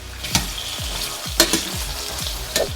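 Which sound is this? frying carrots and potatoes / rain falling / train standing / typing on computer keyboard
frying carrots and potatoes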